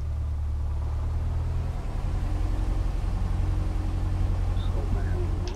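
Steady low drone of a light aircraft engine as it begins to taxi in Microsoft Flight Simulator X, with the rumble shifting slightly partway through. No voices are heard.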